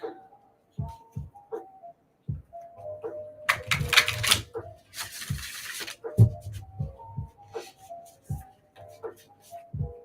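A deck of message cards being shuffled in quick riffling bursts, with a dense papery flutter midway, mixed with lighter taps and card handling, close and clear.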